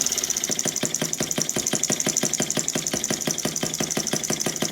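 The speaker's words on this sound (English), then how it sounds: "clutch is running. It will run really slow." A Stirlingkit N12b model engine runs slowly with its clutch engaged, giving a steady, evenly spaced mechanical knocking beat over a continuous whine, close and alone.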